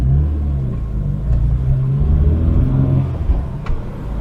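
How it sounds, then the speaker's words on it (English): An Austin Maestro City's A-series car engine revs and accelerates up close, a low rumbling drone rising and falling steadily, with a brief mechanical clunk near the end. "I think the A series engine makes quite a nice noise actually."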